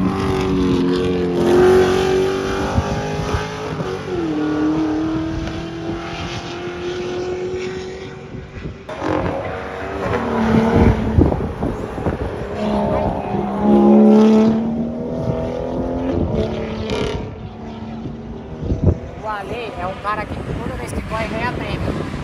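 A car passes on a street road, with a loud engine rising and falling in pitch as it revs, accelerates and goes by, while people talk over the sound.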